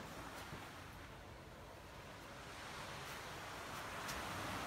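Sea waves wash onto a beach on a cloudy day, heard as a steady, faint broadband surf rush that swells slightly toward the end, with no talking.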